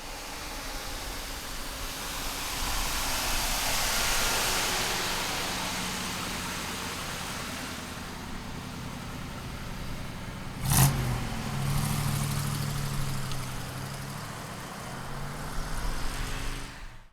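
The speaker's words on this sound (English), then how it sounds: "let's take this 67 Cougar for a ride" A 1967 Mercury Cougar GT S-code with a 4-speed manual is heard from inside while driving, its engine a steady broad rumble with road and wind noise that swells as it accelerates, a sharp knock midway, then rising revs near the end.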